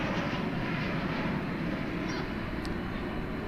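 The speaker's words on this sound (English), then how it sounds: "Boeing 737-800 coming in from Oklahoma City, flight 3823" At night at DFW, a Boeing 737-800 arriving from Oklahoma City gives a faint, steady engine rumble that stays even throughout, heard alone from a distance.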